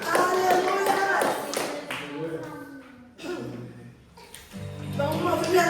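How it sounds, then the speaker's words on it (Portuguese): Church congregation clapping hands during worship, sharp rhythmic claps near the start that thin out while a voice speaks and singing carries on underneath. "Vamos movimentar, irmãos, batendo palmas"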